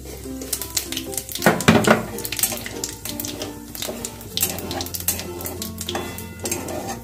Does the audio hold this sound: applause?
no